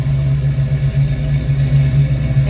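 A 1969 Chevrolet Camaro RS/SS convertible with a big block V8 and overdrive transmission runs at a steady idle, a loud, close, even low rumble with a slight lumpy pulse and no voices over it.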